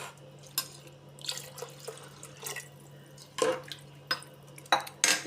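Water is poured into rice for chicken biryani in a kitchen. Soft, intermittent splashes and light clatter come over a steady low electrical hum, fairly faint and without talk.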